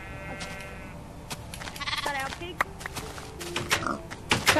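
Sheep bleating in the video game Minecraft, several short wavering bleats under ongoing talk, with scattered taps and thunks from gameplay.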